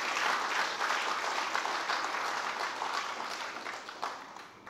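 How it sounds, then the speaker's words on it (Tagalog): Sustained applause from a church congregation fills a worship hall, dense and steady, tapering slightly toward the end with no voices over it. "Hindi ba pwedeng makarinig ang Diyos ng palakpak po natin?"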